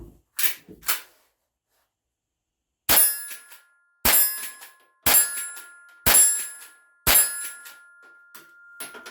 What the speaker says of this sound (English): we're going to go ahead and do 5 shots at the steel target